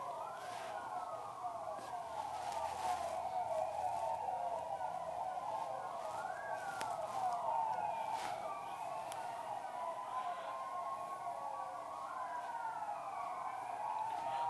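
Multiple sirens wail together from afar, rising and falling in overlapping sweeps, with a few faint clicks and knocks nearby.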